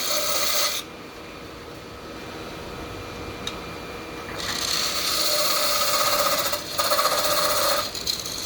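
A hand file rasps at the kerf of a saw cut in soft wood, widening it slightly so it won't bind, in steady back-and-forth strokes that are close and moderately loud, with a quieter pause in the middle.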